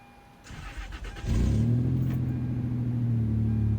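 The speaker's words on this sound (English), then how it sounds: "Unfortunately, though, the truck started being a bit louder than normal." A truck engine runs louder than it should, starting up partway through and settling into a loud, steady rumble that carries on to the end.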